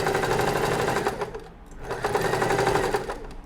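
A sewing machine stitches an invisible zipper, running in two steady bursts of fast, even needle chatter with a brief pause between them, close and fairly loud with no talk.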